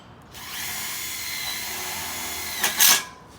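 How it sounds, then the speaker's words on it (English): A cordless screw gun drives a Tek screw into a Colorbond steel fence rail, a close, loud steady whine for about two seconds that ends in a sharp burst as the screw seats. No one speaks. "get your gun with a few Tech screws, and you just put one in on this side"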